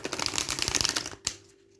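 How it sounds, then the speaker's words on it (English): Thin, bendy oracle cards from a crystal sound healing deck are riffle-shuffled up close, making a quick run of crisp fluttering clicks that ends in a final sharp snap, then quiet. "let's see how they shuffle"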